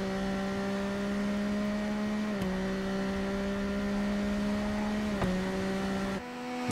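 Superbike engine in the TT Isle of Man racing game, held at a steady high-rev drone with brief gear-change dips, loud and continuous throughout, ending with a sudden drop in pitch.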